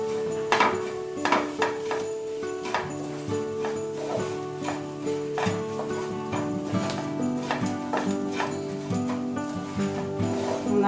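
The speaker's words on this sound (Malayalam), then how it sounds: "ഇനി നമുക്ക് ഈ മസാലകൾ ഇതിനകത്തോട്ട് ഇട്ട് കൊടുക്കാം. നമുക്ക് നന്നായിട്ട് ഇളക്കി കൊടുക്കാം." Spiced masala being stirred in a pan for Kerala poti curry gives repeated clinks and scrapes of a utensil against the pan, a steady rhythmic series heard close up with a tonal hum running underneath.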